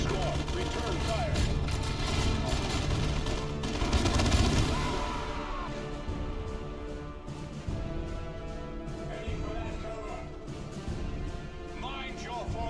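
Dense game gunfire from Warhammer 40k Dawn of War II, loud sustained bursts and volleys in a battle that thins after a few seconds into scattered shots, with voices talking over it.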